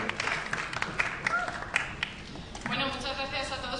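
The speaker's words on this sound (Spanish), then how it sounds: "gracias a todos por aplaudir" Audience at a Spanish film critics' awards gala claps in a loose, scattered burst of applause that thins out, while someone speaks over it toward the end.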